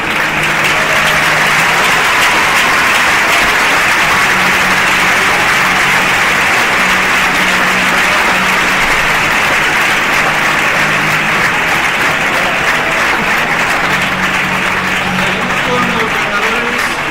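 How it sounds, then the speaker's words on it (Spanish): Sustained, loud audience applause fills the hall at an Asturian handball gala, a dense, steady wash of many hands clapping with a faint voice underneath throughout. "Un aplauso."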